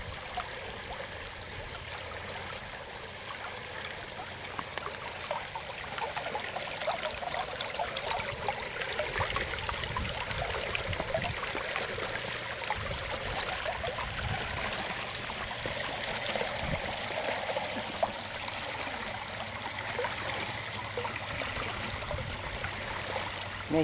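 Water pours rhythmically through a garden flow form, producing a steady, close trickling and splashing stream that continues evenly throughout with no talking.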